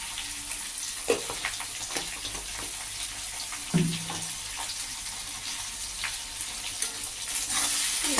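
A spatula stirs a spiced banana flower fritter curry seasoned with salt and jaggery in a pan. Scraping knocks sound over a constant close sizzle, with a louder clatter partway through.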